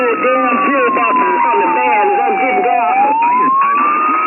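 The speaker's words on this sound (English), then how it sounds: "we got sirens going on out there" A wailing emergency siren sweeps up and down steadily over other vehicle sirens and traffic noise, with people talking underneath.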